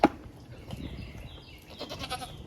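Nigerian dwarf goat bucks bleat in their pen on a rainy farm during feeding, wavering calls rising over a steady background patter, with a sharp knock at the start.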